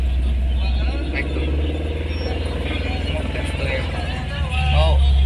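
Mazda Astina 1.8 straight-four engine running close by with a loud, steady low drone that lifts toward the end as the throttle is pressed, while people talk over it.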